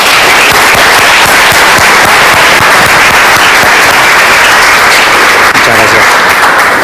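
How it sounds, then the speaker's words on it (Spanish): A seminar audience gives a loud, dense, continuous round of applause to welcome two management speakers, steady crowd clapping without pause. "vamos a recibir a Matías y a Silvio con un fuerte aplauso"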